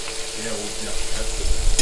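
Bacon frying in a pan, a steady close crackle and sizzle with a low rumble, no talking.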